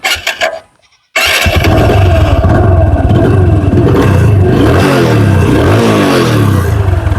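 A 2002-model TVS Apache RTR 160cc motorcycle at a used bike showroom cranks and fires up after a brief silence, then idles loudly with several rising and falling revs, close to the microphone.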